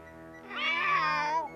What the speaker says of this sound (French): Mais c'est un chat.